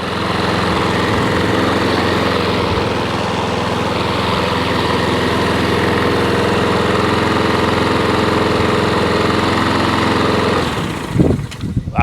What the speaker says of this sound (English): it does just want them revs just picking up just a smidge